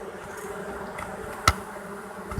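A honey bee swarm, a virgin swarm with many queens, hums in a steady, moderate drone outdoors near a swarm box, with a single sharp click partway through.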